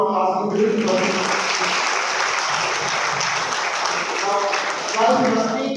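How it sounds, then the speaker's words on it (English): An audience at a college session gives a round of applause, dense, even clapping filling nearly six seconds, with voices and musical tones mixed in at the start and end. "a big round of applause for all class individuals."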